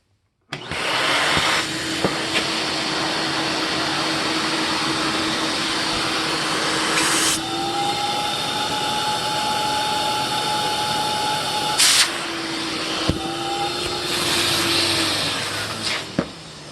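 A 40-year-old Electrolux Olympia One vacuum cleaner roars loud and steady up close for the whole stretch. Its whine shifts pitch a couple of times, and a few sharp clicks break through, with no voices.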